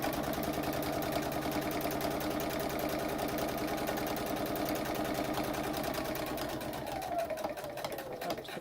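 Sewing machine running steadily while top stitching a fabric face mask an eighth of an inch from the edge, a continuous close mechanical whir that slows and breaks up near the end.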